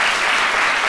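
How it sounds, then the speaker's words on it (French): A short, loud wash of studio audience applause on a talk show, steady and dense for under a second. "merci d'applaudir très fort"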